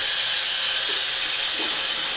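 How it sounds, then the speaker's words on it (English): Cold tap water runs steadily from a faucet into a sink during the wash stage of Caffenol black-and-white film developing, a continuous broad hiss with no speech. "This is where you use your tap water."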